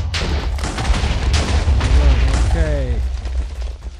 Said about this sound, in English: Restart the explosion.